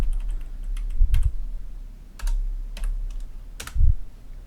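Typing on a computer keyboard close to a large microphone, with scattered key clicks and a few heavier thumps, likely the space bar, in short irregular bursts over a low background hum.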